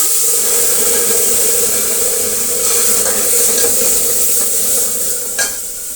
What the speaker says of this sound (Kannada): ಈಗ ಸಾಂಬಾರನ್ನು ನಾವು ಸೇರಿಸೋಣ.